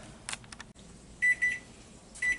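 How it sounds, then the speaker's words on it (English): A kitchen timer alarm sounds while a roast beef cooks in the oven: repeated thin, high electronic beeps in short bursts after a brief soft clatter, with no one speaking. "And my timer's going off,"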